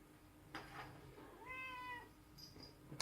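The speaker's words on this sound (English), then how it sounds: "The cat is jealous." A house cat lets out a drawn-out, rising-and-falling meow in a quiet indoor room, preceded and followed by small taps and handling noises.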